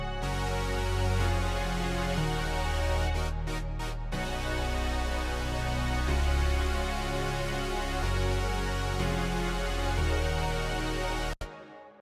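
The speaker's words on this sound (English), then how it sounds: "And together the synths sound like this." Layered synthesizers from a guitar cover of a song play together in a dense, full wash, with low bass notes shifting every couple of seconds, then cutting off abruptly near the end.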